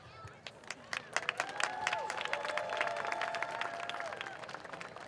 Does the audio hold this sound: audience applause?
yes